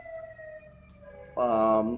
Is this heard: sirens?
yes